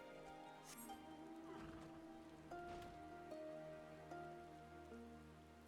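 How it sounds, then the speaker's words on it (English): Rain falls steadily in the video game Final Fantasy XIV, a soft continuous patter under quiet tonal game music, with a few brief brighter drips standing out. "Oh, it's raining."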